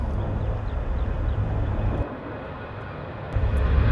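A huge Boeing C-17 military transport jet takes off from Charlotte Douglas Airport with a loud, steady broadband engine roar that dips briefly midway, then swells again as it climbs close overhead.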